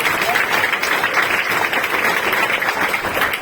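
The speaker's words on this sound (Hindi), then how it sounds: "जोरदार तालियां" Loud, dense applause from a crowd, sustained steadily throughout with a busy, crackling texture and no pauses.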